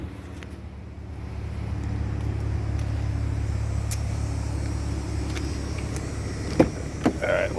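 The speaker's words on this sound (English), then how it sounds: "So we're gonna do our windows." Power windows on a 2003 BMW 325xi, a steady motor hum rising and holding inside the car, ending with a couple of soft clunks as the glass stops.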